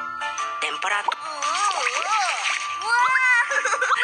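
Cartoon water splashes and sloshing as a baby panda gets bathed in a children's game, short splashy bursts over bright game music and synthetic effects, with a narrator speaking throughout.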